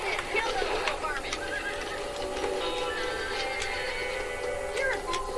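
Horses whinny and their hooves thud and clop in the western video game Red Dead Redemption, a loud neigh rising over steady galloping with ambient game sound throughout.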